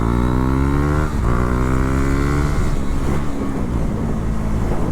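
A motorcycle engine revs hard and continuously through a long wheelie, a loud, close, sustained roar whose pitch climbs steadily, dips, then climbs again into a rougher, strained note, with no talking over it.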